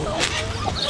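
A rooster on a farm gives short, close clucks in a quick burst while people talk over the farmyard sounds.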